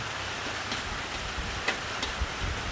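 Steady rain pours down during a power outage, a dense unbroken patter with a few slightly sharper drops, heard alone with no talking.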